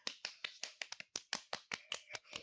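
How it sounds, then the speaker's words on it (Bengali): A round of hand clapping at a family picnic, about a dozen sharp claps in a quick uneven rhythm, close and clear with no talk over it. "গৌরব ফার্স্ট, হাততালি একটা।"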